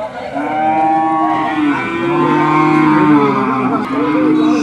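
Sahiwal cattle at the Hazratpur cattle market give a drawn-out, resonant moo that swells and sustains, loud and near, with market bustle faint underneath.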